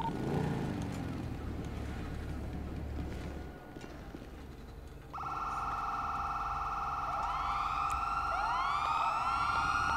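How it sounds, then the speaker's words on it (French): Ambulance siren in a police roleplay video game, starting partway through as a steady wailing tone with sweeping up-and-down pitch glides that grow louder over a constant rumble of traffic or engine noise. "L'ambulance, super. Ah, c'est l'ambulance."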